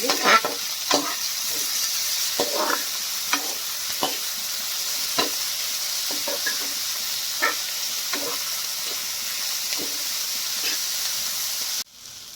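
Onions and capsicum fry in a pan, a steady sizzling hiss with intermittent scraping stirs of a spoon, continuing close and even until it cuts off near the end.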